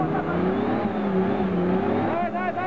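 Car engine revving up close, a steady rising and falling drone with higher whining harmonics toward the end, while a voice talks over it.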